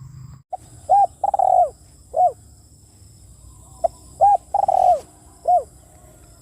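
A spotted dove coos outdoors in short repeated phrases, several soft rounded notes grouped in bursts with quiet pauses between, fairly close and clear over a faint background.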